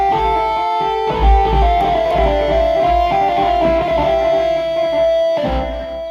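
A keyboard set to a distorted rock guitar tone plays a melody with sustained, gritty lead notes over a low pulsing accompaniment. The sound is steady and fairly loud, with no talking.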